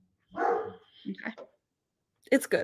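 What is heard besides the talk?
dog barking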